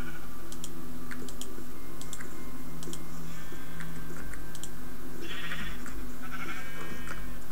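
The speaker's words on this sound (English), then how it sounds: "Ooh, black sheeps and white sheeps. Sheeps are everywhere." Blocky Minecraft sheep, black and white, bleat in short bursts over a steady game ambience with light clicking and tapping, the cries mid-distance and moderately loud, no talking.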